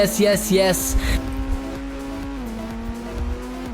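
A Ford Mustang in the video game Indian Bike Driving 3D speeds up, its engine tone holding steady and then stepping up in pitch, loud at first with tire noise, under a voice talking.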